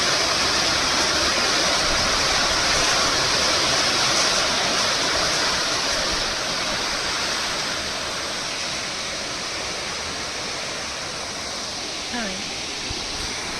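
Mountain water rushes down from wooded hills beside a road between Munsiyari and Bageshwar, a loud, steady, broadband roar that barely changes across the whole stretch.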